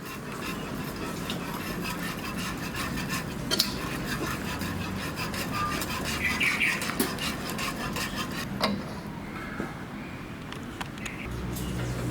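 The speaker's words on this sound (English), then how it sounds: "We'll be using a whisk instead. That will get rid of all the lumps." Whisk working flour into a white sauce for a roast chicken dish, giving a continuous scraping, rubbing rasp against the pan with small clinks, steady and close throughout with no talking.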